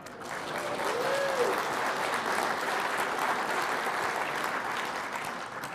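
A lecture audience breaks into steady, even applause that holds at a moderate level for several seconds, with no voices over it.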